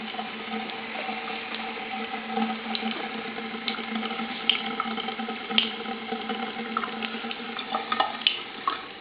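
Water runs from a tap in a home water system in a garden, a steady close splashing flow with small irregular drips and spatters throughout.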